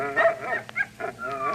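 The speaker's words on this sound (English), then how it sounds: "Dogs. That is the sound of dogs." Several dogs bark and yip in a lively, irregular cluster, with whimpering tones between the barks, close and fairly loud throughout the short burst.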